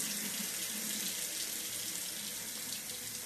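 Water runs steadily from a tap into a sink, a continuous close hiss and splash with no break or change throughout.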